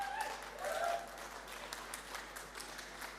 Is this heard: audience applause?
yes